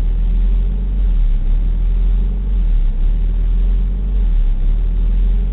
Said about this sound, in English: It's just up and down idling.